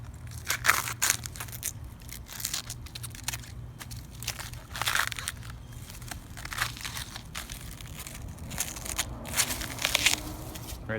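Dry outer layers of a hardy banana stem are peeled back by hand, giving repeated close crackling, crinkling and tearing bursts in uneven clusters, with quieter rustles between them.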